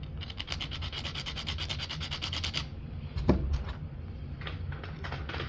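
Grinding the striking platform of a rootbeer chert flake, a close, steady dry rasping scrape with rapid repeated strokes, pausing briefly before a sharper knock and then resuming in softer bursts.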